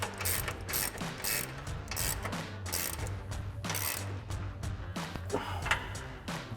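A 1/2-inch ratchet turning a 22 mm socket tightens bolts on a Tacoma front lower control arm, giving bursts of rapid metallic clicking with short pauses between strokes, close and clear.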